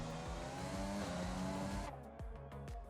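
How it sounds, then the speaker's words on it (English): An F1 race car in the F1 2020 game screams through the final chicane of the Canadian GP, a high sustained engine whine followed by sharp downshift bursts and brief tire squeal, loud and close. "He's coming through that final chicane now."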